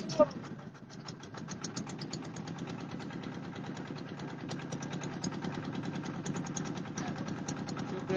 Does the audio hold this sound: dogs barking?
no